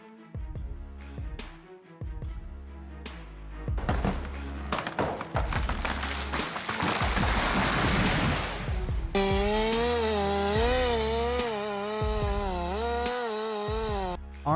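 A Husqvarna 3095 XP chainsaw with a 36-inch bar roars loudly and continuously, its pitch wavering as the blade bites into a wide old pine, with heavy crackling and a steady high whine toward the end.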